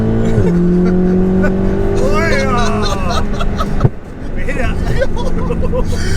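A VW Golf R engine revs and accelerates close by, its pitch climbing through gear changes, with loud road noise and a thump partway through.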